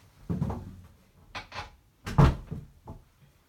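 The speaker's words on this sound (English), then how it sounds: "let me close that door because Tiny's being noisy" A door pushed shut indoors, a few short knocks and thuds of wood against the frame in quick succession, fairly close and moderately loud, with no talking over it.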